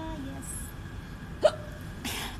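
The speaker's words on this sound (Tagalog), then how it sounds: "I have a hiccup." A single sharp hiccup pops out mid-clip, close and fairly loud, amid quiet background hiss with a faint voice earlier.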